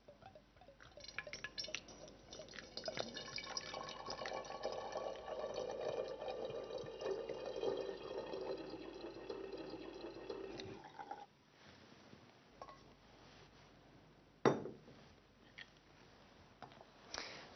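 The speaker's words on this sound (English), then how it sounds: "You should pour the red wine into an empty wine bottle, carafe, or suitable jug." Acidified potassium manganate solution is poured into a glass wine bottle in a steady, filling gurgle for about ten seconds. The pour then stops, followed by quiet and a single sharp glass clink.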